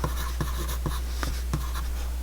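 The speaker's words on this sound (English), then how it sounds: "So I will just write down on the back" Pencil scratching across paper in short, uneven strokes while notes are jotted on the back of a drawing sheet, close and fairly quiet over a low steady hum.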